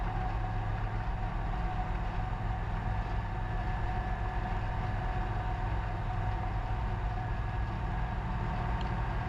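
Light sport aircraft engine droning steadily in flight during a crosswind turn, a loud constant hum with no breaks.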